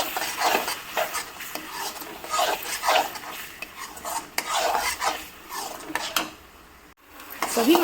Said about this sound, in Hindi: तो अब हम डाल देंगे प्याज और टमाटर का पेस्ट और सभी को अच्छे से मिलाते हुए भून लेंगे।